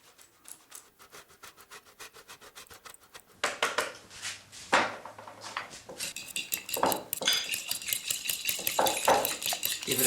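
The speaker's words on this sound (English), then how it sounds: "Give it a good mix so all the cheese gets evenly distributed" Fork scraping and clinking against a bowl, whisking grated grana padano cheese into a frittata egg mixture, soft and sparse at first, then faster, louder rhythmic beating.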